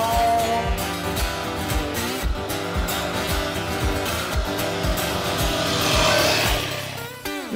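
A Yamaha Tenere 250R experimental project motorcycle has its single engine revved repeatedly up close. It makes a buzzy, pulsing drone that swells and eases with the throttle, heard alone without talk.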